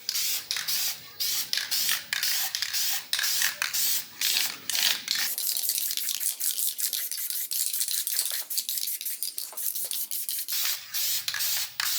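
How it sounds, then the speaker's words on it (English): An aerosol can of plastic primer sprays onto interior trim pieces of a Camaro in repeated short hissing bursts, followed by a long steady hiss, close and loud, with no talking. "Getting the plastic primer on."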